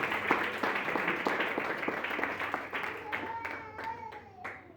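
A church congregation claps along in a steady, rhythmic beat during a service, moderately loud at first and then thinning out while someone speaks and a voice rises over the clapping.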